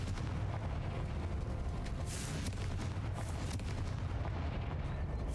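A Confringo fire spell blasting in Hogwarts Legacy, a loud sustained roar of fiery rumble and crackling bursts that swells midway and stays dense throughout, with no voice over it.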